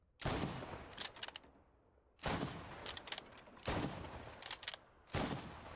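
Four loud, sharp shots from an Elite Lee-Enfield rifle in a video game, spaced about one and a half seconds apart, each followed by mechanical clicks of the bolt cycling, no speech.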